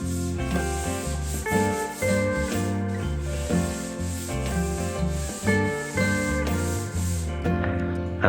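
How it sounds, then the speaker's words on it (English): A sanding block rubs over a brushed-on coat on a homemade wooden track saw, giving continuous rhythmic strokes with background music playing throughout. "sand it with a sanding block."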